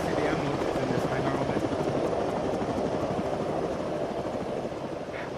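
Helicopter in the video game Arma 3, a loud, continuous rotor roar with a rapid chopping pulse that dominates throughout and fades slightly toward the end.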